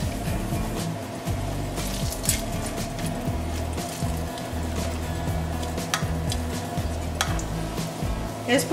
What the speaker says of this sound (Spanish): Aquí un sartén caliente, le voy a agregar un poco de aceite y vamos a freír las tortillas